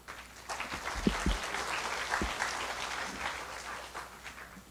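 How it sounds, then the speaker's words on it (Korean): An audience at a university orientation ceremony for new and transfer students applauds to welcome the president and faculty. The steady, moderately loud clapping swells early and then holds through to the end, with no talking over it. "큰 박수로 맞이하여 주시기 바랍니다."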